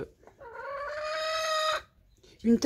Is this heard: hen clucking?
yes